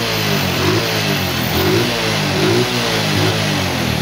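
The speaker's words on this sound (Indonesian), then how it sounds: "Tapi kalau gasnya ini dibuka, nah gasnya dibuka motor bisa hidup tapi mati lagi mesinnya." A fuel-injected motorcycle engine with a high fuel consumption fault revs as the throttle is opened, its loud, close roar rising and falling in repeated surges, with no talk over it.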